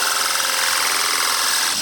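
A power drill bores through metal while building an automaton's home, giving a steady, loud, close grinding whine that holds for the whole moment and sags slightly at the end.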